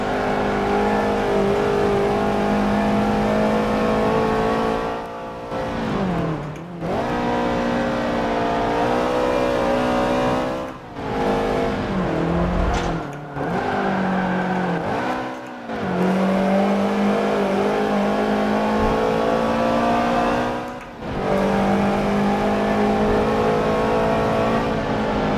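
A car engine in Forza Motorsport 7 drives off-road, revving and droning continuously with repeated gear shifts and dips in pitch, loud and close throughout.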